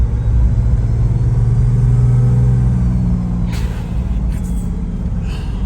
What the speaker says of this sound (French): Le bruit du turbo.